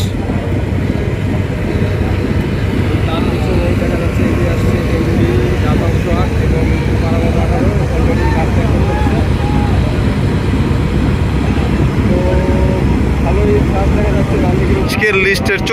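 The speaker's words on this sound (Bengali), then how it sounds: "দশটা বাজে দশ মিনিটে ঢাকার উদ্দেশ্যে যাত্রা শুরু করলো ঢাকা বরিশাল নৌ রুটের অন্যতম বৃহত্তম লঞ্চ কীর্তনকোলা দশ" Loud, continuous rumble of a large passenger launch on the Dhaka-Barishal river route setting off from Charmonai, with engine drone and busy crowd noise blending into one dense, steady roar.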